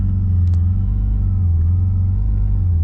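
A 1974 Porsche 911 engine idles on the hand throttle after a cold start, giving a steady, close, deep rumble that holds an even low hum throughout, with no talk.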